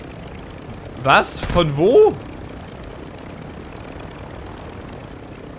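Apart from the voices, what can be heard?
helicopter in video game Warzone 2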